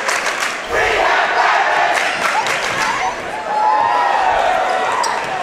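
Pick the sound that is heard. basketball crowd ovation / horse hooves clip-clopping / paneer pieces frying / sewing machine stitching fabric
basketball crowd ovation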